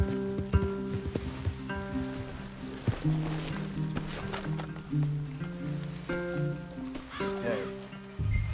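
Horse hooves clip-clop in a steady rhythm in the video game Red Dead Redemption 2, over game music and ambience, with occasional whinnies and a voice talking over it.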